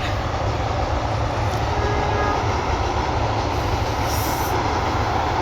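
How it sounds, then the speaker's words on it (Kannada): An Arsikere–Mysuru train rumbles steadily past nearby, beside the Kaveri River, a continuous loud roar of rolling wheels and rail noise with no voices. "ಮೈಸೂರಿಗೆ ಹೋಗ್ತಾ ಇದೆ ಟ್ರೈನ್."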